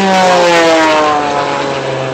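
A Red Bull BO-105 aerobatic helicopter flying overhead: a loud, steady engine drone with a rotor-like harmonic hum holds throughout, fading slightly toward the end.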